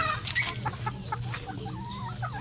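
A young stag rooster clucks and chirps softly at close range, a run of short, rising and warbling calls over faint background hum.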